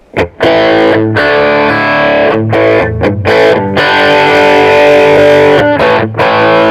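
Crunchy overdriven electric guitar chords through a Bogner Ecstasy amp with its boost off, strummed loud and close, with brief pauses between rhythmic stabs and sustained ringing passages.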